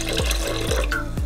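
Small splash of water poured into a milk container, a close, bright trickle with quick gurgling pulses, no talk.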